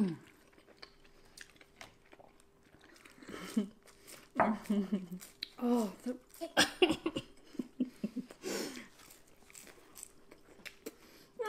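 McDonald's chicken nuggets are bitten and chewed in bursts of close, wet crunching during an eating race between sisters, mixed with giggles, breathing and brief talk.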